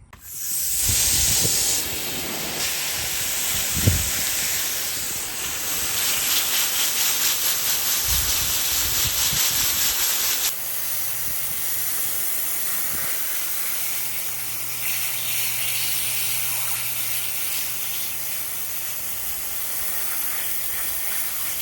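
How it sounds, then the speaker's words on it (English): A pressure washer sprays water over a turkey skull, making a loud, steady hiss that runs long and alone, with brief changes in tone and a few thumps as the spray moves. "we're gonna go rinse it off and maybe pressure wash it"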